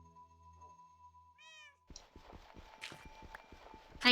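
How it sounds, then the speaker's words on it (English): A cat meows a few times, fairly close, after a steady electronic hum, followed by a run of light footsteps and small thumps in the background. "That was the cat out there."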